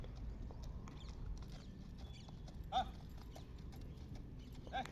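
A horse's hooves clip-clopping while being driven, a steady, rapid rhythm of hoofbeats at moderate distance with a brief whinny-like sound partway through and faint background noise.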